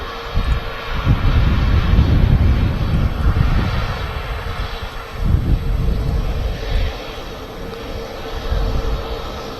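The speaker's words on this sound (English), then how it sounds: "Very quiet on a taxi, the 737 8200s." A Boeing 737 taxis at Manchester Airport, its engines producing a loud, steady jet roar with low rumble and some wind buffeting. The sound swells and eases slightly over several seconds.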